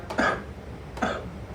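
A gravel-voiced spoken-word poet at an open-mic night gives two short, rough coughs about a second apart, close and fairly quiet, with no talk over them.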